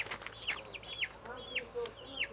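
Chickens and chicks clucking and cheeping in short chirpy bursts, several calls close by over a low background.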